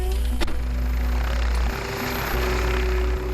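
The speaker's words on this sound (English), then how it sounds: "Helicopters landed in the field" A rescue helicopter lands in a field, its rotor thumping loud and steady close by, with a continuous engine whine above it.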